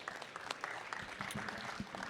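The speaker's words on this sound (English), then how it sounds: "let's give him a round of applause, please" Audience applause for a speaker at a decentralized network summit during BUIDL Week, a steady dense patter of clapping at moderate volume that continues without pause.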